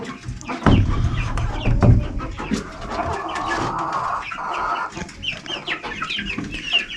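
Silkie chickens in a farm pen cluck repeatedly at close range, with irregular soft clucks and one longer call over a rustling barnyard background.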